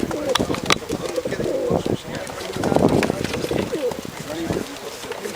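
Flying tippler pigeons coo repeatedly at an outdoor lawn show, with soft throaty calls and wing flutters close by, while someone talks over them and other voices murmur in the background.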